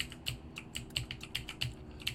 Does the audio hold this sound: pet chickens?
no